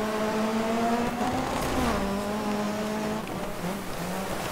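Video game race car with a 520 hp engine roars steadily through the whole stretch, its pitch gliding and shifting as it drives on, loud and close with a brief tire-like squeal partway through.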